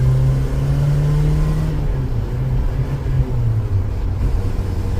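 An Isuzu Trooper 4x4's engine runs close by with a steady low rumble, its pitch dipping slightly partway through, with no voices over it.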